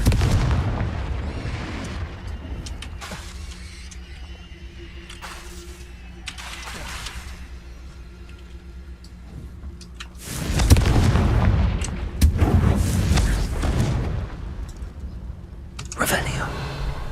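Confringo spell blasts from Hogwarts Legacy, several booming explosive bursts spread across a stretch of game ambience, with a person speaking between the blasts.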